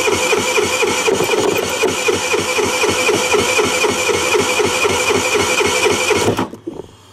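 A scooter's small engine cranks repeatedly in a fast, steady rhythmic churn, loud and close, for about six seconds without catching, then stops abruptly with a brief rattle.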